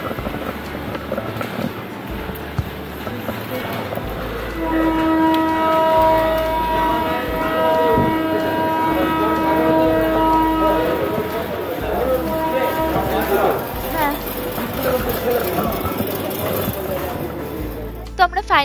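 The Azad Hind Express from Pune pulls into Howrah station, its loud horn blaring in long sustained tones over the rumble of wheels and the station's noise.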